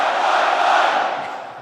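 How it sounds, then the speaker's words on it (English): A large crowd of US and Australian service members at a base in Darwin shouts a loud, sustained cheer together, then fades out. "I know that you all have a great Australian cheer. I want to hear it."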